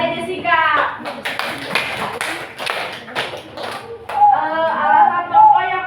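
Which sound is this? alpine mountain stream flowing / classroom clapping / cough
classroom clapping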